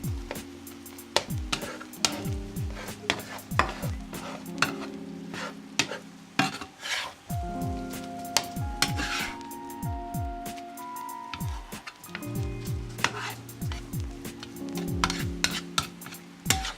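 Eggs fry in oil in a pan, sizzling while a utensil scrapes and clinks against it in irregular strokes as they are flipped; no one speaks.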